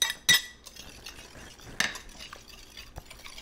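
Cooled wheat berries being stirred into an Easter wheat pie filling, with a few sharp utensil clinks against the bowl and soft scraping in between, close and moderately quiet with no talking.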